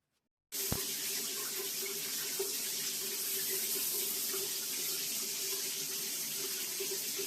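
Shower water runs steadily in a bathroom, switching on abruptly after a moment of silence and continuing as a loud, even hiss close by.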